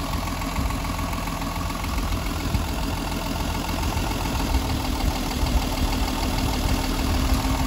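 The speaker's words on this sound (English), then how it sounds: "Okay, we restarted it. Let's see if we can get the RPMs to drop." A Mercedes M130 inline-six with mechanical fuel injection idles steadily and close by after a restart, a continuous dense mechanical rumble with a faint ticking edge and no voices.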